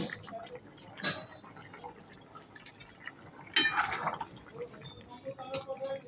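Chicken and potato curry broth ladled into a dish, giving wet splashy pours and drips in two main bursts with quieter trickles between, recorded close in a home kitchen.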